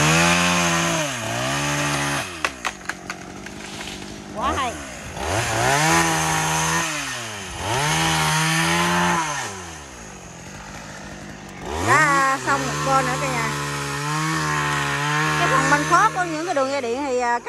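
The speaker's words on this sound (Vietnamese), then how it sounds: "Các anh cũng đã cưa xong rồi." A chainsaw revs and bogs repeatedly as it cuts through a large bush in an overgrown garden, in several bursts with brief idling gaps, close and loud, with a voice occasionally underneath.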